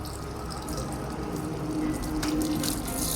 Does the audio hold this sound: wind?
no